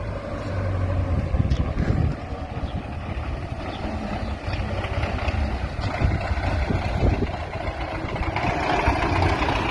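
A restored blue tractor engine runs steadily and loudly throughout, with a continuous low rumbling drone and no talking.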